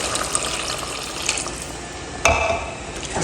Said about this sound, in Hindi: तो पानी डाल रहे हैं